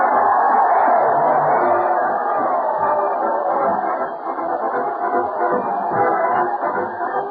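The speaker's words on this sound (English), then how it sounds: "Listen to that crowd cheer Fred Allen as he heads his weekly parade to the old Town Hall" A studio crowd cheers and applauds for comedian Fred Allen on a vintage radio show, a dense, sustained roar of clapping and whooping heard through thin, old broadcast audio.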